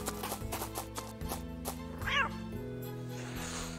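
A cat in the adventure game Ceville lets out a single meow, clear and close, over steady background music.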